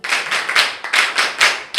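A small group claps together in a classroom-style session, a few seconds of close, brisk applause in uneven bursts with no talking over it.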